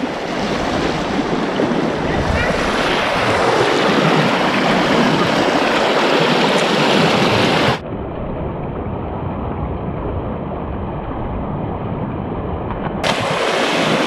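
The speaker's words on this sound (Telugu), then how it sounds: "పాపాకి నది ఫ్రెండ్స్ ఇది." Loud, steady rush of the Papagni river flowing near the Vempalli caves in Rayalaseema, a continuous broadband roar with no talk, the tone thinning partway through as if the recording shifts.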